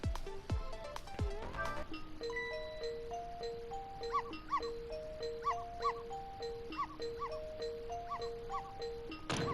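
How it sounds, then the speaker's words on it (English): A dog in the video game Ghost Trick, set off by remote control, barks in a string of short repeated yelps over chiming, melodic game music, moderately loud throughout. "we can make this go and he'll start barking."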